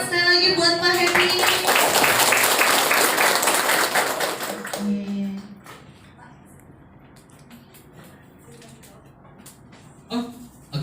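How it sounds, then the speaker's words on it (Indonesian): Applause from a campus audience for a motivational speaker, loud and dense clapping for about five seconds that then stops, followed by quiet room noise, a few knocks and a brief voice near the end. "Tepuk tangan sekali lagi buat Pak Happy."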